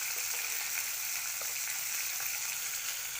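Onion frying in a pan with salt for a tomato curry, a steady, hissing sizzle that holds at an even, moderate level throughout with no voices.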